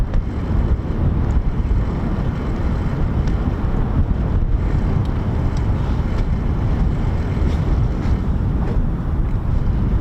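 Strong wind buffets the microphone at an airfield beside a US Air Force fighter base, a loud continuous rumbling roar with gusty swells and no other clear sounds.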